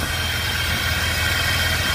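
An L67 supercharged V6 engine in a project burnout car idles steadily with a dense, even hum and faint rattling vibration. The sound is close, constant and unbroken, with no voices.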